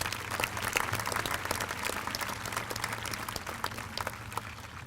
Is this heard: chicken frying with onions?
no